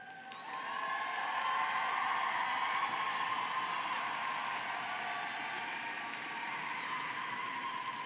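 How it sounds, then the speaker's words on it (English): An audience at a School of Social Work graduation ceremony breaks into sustained applause and cheering for standing faculty and staff, a dense wash of clapping and whoops that rises quickly and holds steady. "A round of applause, please,"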